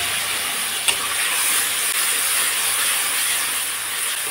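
Garlic and green chilli paste with onion sizzling in hot mustard oil with nigella seeds in a wok, a loud continuous close hiss that holds steady for several seconds.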